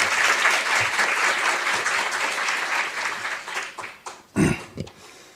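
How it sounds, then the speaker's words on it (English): Audience applause in a hall at a diplomatic academy, a full steady round of clapping that thins out and fades, followed by a few scattered close thumps and handling noises. "please give him a big round of applause"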